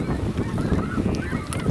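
Snow geese honk in a dense, overlapping chorus over a pasture pond during a hunt, loud and close and continuous, with no talk.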